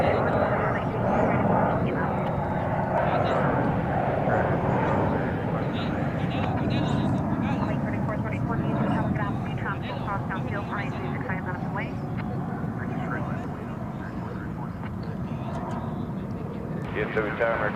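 An airliner arriving from San Francisco lands at DFW Airport as a steady, broad engine roar sustained throughout, fairly near, with a voice speaking over it and radio chatter in the background.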